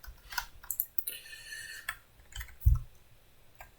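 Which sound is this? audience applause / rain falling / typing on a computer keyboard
typing on a computer keyboard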